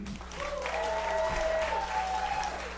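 Brief burst of audience clapping at a puppet cabaret at Links Hall in Chicago, moderately loud with a cheering voice or whoop riding over it, lasting under three seconds.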